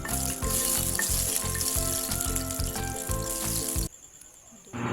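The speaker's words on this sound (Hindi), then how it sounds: "तेल गरम हो चुका है। अब इसमें हम दालचीनी और ज़ीरा डालेंगे।" Cinnamon and cumin sizzle in hot oil, a dense continuous hiss with a rhythmic pulsing tone behind it that cuts off abruptly, leaving a quieter sizzle before rising again.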